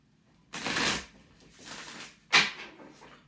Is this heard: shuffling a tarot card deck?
yes